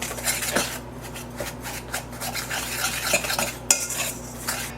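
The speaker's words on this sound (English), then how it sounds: "So 3/4 cup of brown sugar, stir that in." Dry peach cobbler ingredients with packed brown sugar being stirred in a bowl, a steady close scraping and clinking of a utensil against the dish that repeats in quick irregular strokes, with no one talking.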